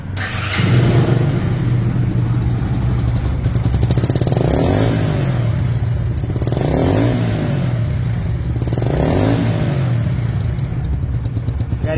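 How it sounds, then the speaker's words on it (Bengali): A 2023 Runner 80 motorcycle engine runs close by, its steady low hum carrying a light mechanical clatter, with a few gentle revs swelling and easing back every couple of seconds. "তো গাড়িটির সাউন্ড শুনুন, সাউন্ড শুনলে বুঝতে পারবেন যে ইঞ্জিন কোয়ালিটি কেমন আছে।"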